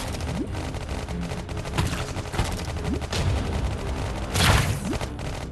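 A dense exchange of gunfire rattles through a battle in the video game Iron Marines, with bursts of shots and booming blasts piling up continuously and a louder explosion near the end.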